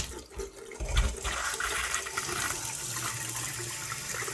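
Cold water runs steadily from a newly fitted kitchen tap, a continuous hissing splash into the sink after a low thump as it is turned on.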